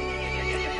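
A horse in Resident Evil Village gives a short, loud whinny, a single strained neigh heard up close and lasting under a second.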